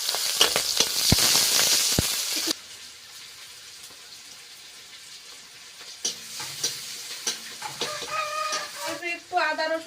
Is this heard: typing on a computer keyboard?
no